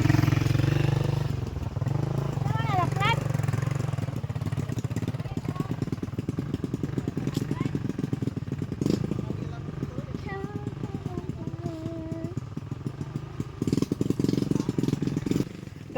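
A motorcycle engine idles and runs with a rapid, throbbing low putter that continues throughout, with a rider talking over it and brief whistling tones rising above the steady mechanical pulse.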